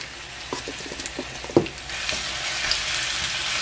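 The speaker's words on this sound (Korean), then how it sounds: "그리고는 하나 더 굽겠습니다." A gochujang pancake (jangtteok) with onion pan-fries in about four spoons of cooking oil, starting with light taps and a knock, then settling into a soft, steady sizzle.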